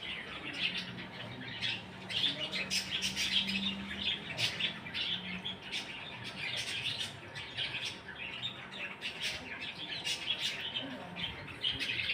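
Many small pet birds kept in an aviary chirp and squawk busily close by, a dense, continuous chatter of overlapping calls with no talking.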